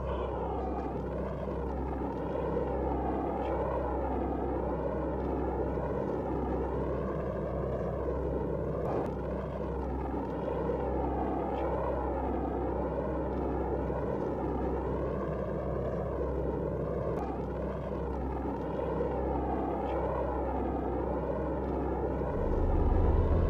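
Apollo 11 Saturn rocket lifting off at launch, a loud, steady, deep roar that rumbles on without a break for over twenty seconds and swells slightly at the end.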